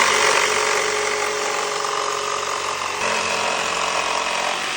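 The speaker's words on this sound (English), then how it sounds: "I like to use a jigsaw because it's a little bit quicker." A jigsaw cuts steadily through a wooden window sill, a loud, continuous buzzing rasp that holds for the whole stretch with only a slight dip in pitch partway through.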